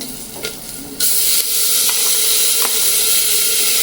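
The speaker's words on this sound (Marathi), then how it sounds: "इकडं पाणी उकळलंय, आता हे तांदूळ घालते यामध्ये" Rice poured into a pot of boiling water after cumin and mustard seeds were roasted, for moong dal khichdi: a soft bubbling hiss turns into a louder, steady sizzling rush after the grains go in, with faint stirring clicks.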